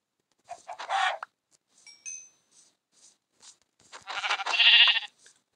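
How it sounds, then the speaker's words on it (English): Chickens in the video game Minecraft, a few short clucking bursts and squawks in quick succession, close and clear against silence, with a louder flurry near the end. "Get back here, chicken."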